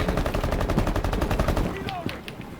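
Rapid automatic gunfire from a video game rattles in a dense, loud burst for about a second and a half, then trails off into scattered quieter shots and faint clicks.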